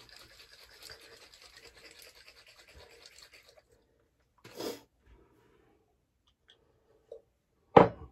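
An Aquanaut safety razor drags across a lathered face in a soft, close scratchy rasp for a few seconds. Scattered faint rubs and a sharp, brief noise near the end follow, with no speech.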